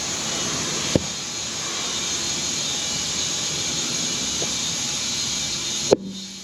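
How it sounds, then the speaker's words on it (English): Compressed air hisses steadily into an off-road tire as it inflates, with two sharp pops of the bead seating onto the rim, one early and one near the end, loud and close. "lube up the rear bead really well and then pop some air into the tire. You'll see the beads pop into place here."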